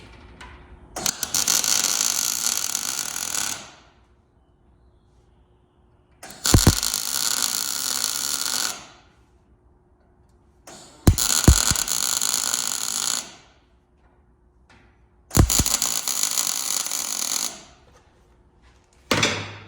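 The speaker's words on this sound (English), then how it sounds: "I'm just doing little welds. I don't put too much heat in it." Four separate short welds laid on a metal range hood being fabricated, each a steady crackling, buzzing burst lasting a couple of seconds, close and loud, separated by near silence.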